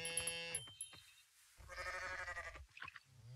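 Goat bleats while being milked in the farming game Coral Island: a couple of short nasal bleats, then a longer wavering one, followed by a quick little cry, clear and close against near silence.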